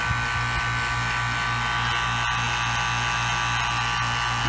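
Harbor Freight two-stage vacuum pump running steadily, a loud continuous electric hum and buzz with a constant drone, close up, with no voices.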